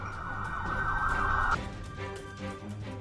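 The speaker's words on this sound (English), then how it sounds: "the sound of sirens grew louder" Police sirens wail loud and steady for about a second and a half, then cut back, leaving a lower siren tone and traffic rumble behind, with no voices.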